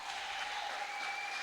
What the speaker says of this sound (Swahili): Tuongeze makofi kwa Bwana Yesu